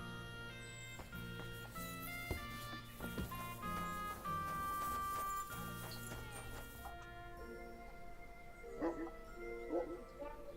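In Kingdom Come: Deliverance II, the dog Mutt barks and whimpers in a run of short yips and woofs over the game's musical score. Barking is steady at first, then turns to softer whines and whimpers near the end.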